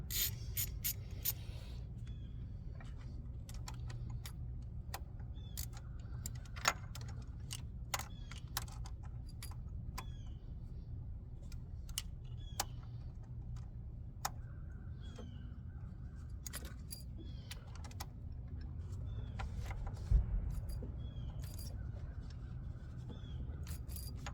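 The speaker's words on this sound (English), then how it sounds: "We hear our clicking noise." A 2011 Mini Cooper S under repair produces repeated sharp, faint clicks scattered irregularly over a steady low background hum while a bolt is being removed.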